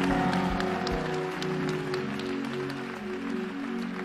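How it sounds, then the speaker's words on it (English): Congregation clapping along at a Sunday church service, a steady rhythmic patter of many hands over sustained organ or keyboard music, fairly loud and continuous with no talk. "Clap your hands if this is your service."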